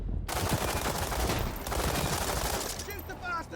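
Dense, continuous gunfire fills a World War 3 video game battle, with rapid overlapping shots and automatic bursts close up throughout, and a voice faintly under the noise.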